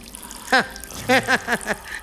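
Water drips inside a lift stuck during a power cut: about five distinct, resonant plinks, close and fairly loud, falling in an uneven rhythm against a quiet background.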